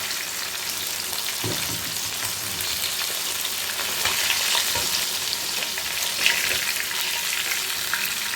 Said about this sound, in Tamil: இப்போ பாருங்கள் மீன் எல்லாமே நல்லா வெந்திருக்கு